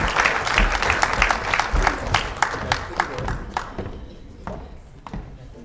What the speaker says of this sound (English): Another round of applause as they leave the stage.